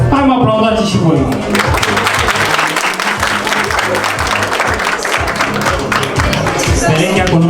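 A pageant audience at a Miss & Mister school contest in Slobozia breaks into steady, loud applause from a crowd of many hands, while an announcer's amplified voice talks over the clapping throughout.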